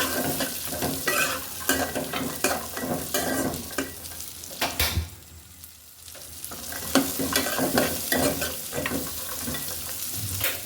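Raisins and tutti frutti are stirred in a pan for falooda, giving a steady scraping and light sizzling throughout, close and fairly loud with a brief quieter dip midway, no voices.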